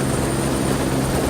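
A helicopter on a sightseeing flight over Caudry, heard as a loud, steady rotor and engine drone with a constant high whine throughout; no voices.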